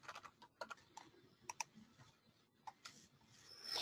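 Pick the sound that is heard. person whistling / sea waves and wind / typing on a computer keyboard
typing on a computer keyboard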